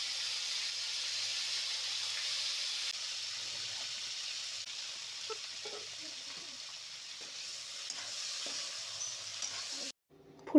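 Cauliflower pieces fry in oil in a pan, giving a steady hiss of sizzling that runs throughout with faint stirring knocks, then drops out briefly before a sharp sound at the very end.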